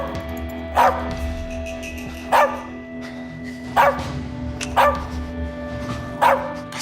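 A puppy in the video game As Dusk Falls gives five short, sharp barks at fairly even intervals, loud and close over a low steady background hum.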